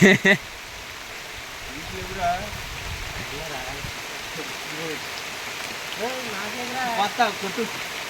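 Steady rain hisses in the background while people talk intermittently over it.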